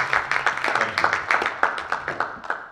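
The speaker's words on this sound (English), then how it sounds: "Please, let's give her a round of applause in advance" Audience at a townhall clapping for a new panel guest, a modest round of steady claps at moderate volume, fairly even throughout.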